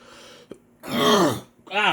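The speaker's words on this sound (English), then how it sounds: "It was like a cough that didn't want to come out" A strained, forced cough, with a short click and then two rough, throaty hacking bursts, close and fairly loud.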